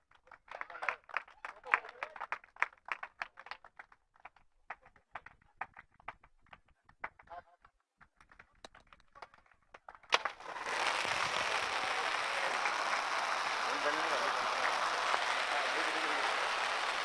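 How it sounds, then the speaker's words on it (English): A crowd at a cricket trophy ceremony for the runners-up begins with scattered individual claps, then breaks into loud, sustained applause that continues to the end. "Huge round of applause for the legends, the runners-up, Legends Cricket Club."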